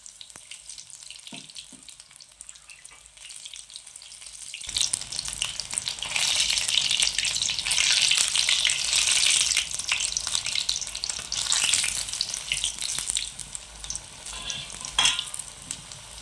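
Radish pieces fry in a pan with a steady, loud sizzle that swells after a quieter start, with occasional stirring clinks and no talking.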